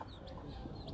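Desi country hen with thirteen newly hatched chicks, soft low clucking with faint high chick peeps over a steady background murmur.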